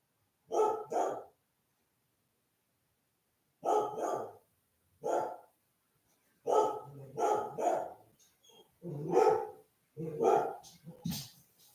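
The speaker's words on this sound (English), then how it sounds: "listen to that girl bark out there" A dog barking outside in bursts, several sharp barks spaced by silent gaps, then quicker clusters of barks near the end, fairly close and clear with no voices over it.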